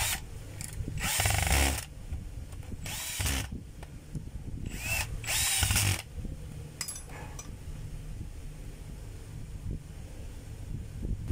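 Stanley STPT600 blower switched on in short test bursts, a loud close whooshing roar rising and cutting out several times with a steady quieter motor hum and rushing air between.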